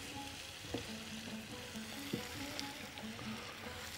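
Chicken and mushroom risotto rice being stirred in a pan, a soft steady sizzle with occasional faint scrapes of the spoon, heard alone.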